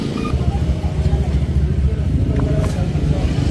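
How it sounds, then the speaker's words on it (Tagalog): Road traffic on a busy street on Black Saturday, a steady low rumble of passing cars and motorcycles with engine hum, heard under close talking. "Traffic na ulit yan."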